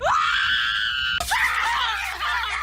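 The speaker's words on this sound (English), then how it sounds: "whenever anyone says the secret word, scream real loud!" Loud, sustained screaming from a crowd erupts on cue at a secret word, one long shrill cry followed by a second burst of overlapping yells.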